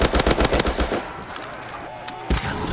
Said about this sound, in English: Pretty sure it's a sniper.